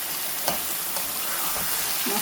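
Jackfruit seeds and dried shutki fish fry with spices in a hot pan, a loud, steady sizzle broken by a few soft scrapes of stirring, with no voices.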